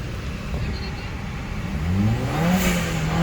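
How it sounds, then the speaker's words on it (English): A 2014 Ford Escape turbo engine revs up from a low hum into a rising, louder whine that climbs and holds in its second half, close by. "just rev it a few times real quick and it would unstick"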